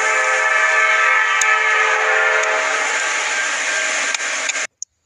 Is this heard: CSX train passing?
yes